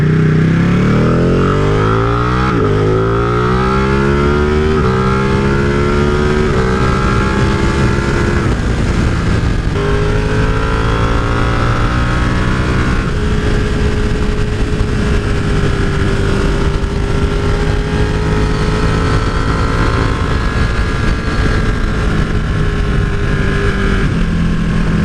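A Ducati Panigale 899 motorcycle engine runs loud and close with no talking, its pitch rising and falling through several revs before settling into a steady high-revving drone.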